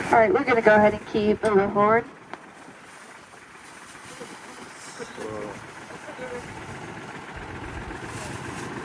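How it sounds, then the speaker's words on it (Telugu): A tractor pulling a ride through an exotic resort and zoo, its engine a low, steady rumble mixed with wind noise. A person talks over it at the start, then the engine carries on alone. "ఇక్కడ ట్రాక్టర్లో తీసుకెళ్తారు"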